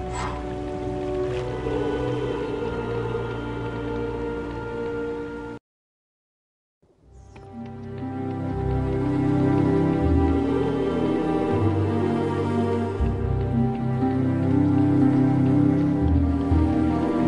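Heavy rain in the Harry Potter and the Chamber of Secrets video game pours down steadily and densely, cuts to a moment of total silence, then returns louder and fuller.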